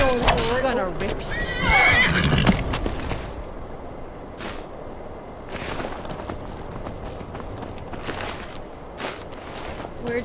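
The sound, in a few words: horse neighing in video game Skyrim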